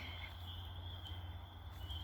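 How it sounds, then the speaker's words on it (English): Spring peeper frogs call from a pond at dusk, their faint, steady high-pitched whistling chorus running unbroken throughout at a distance. "Can you hear those high-pitched whistles? Those are the tiny frogs called spring peepers."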